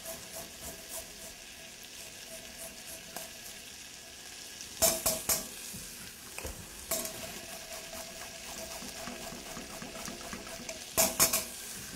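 Jalapeno, grated ginger and garlic sauté in butter, a steady low sizzle running throughout with a few sharper clatters of a utensil stirring against the pan.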